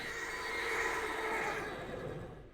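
A horse mount in a video game gives a single clear whinny lasting a couple of seconds, trailing off at the end.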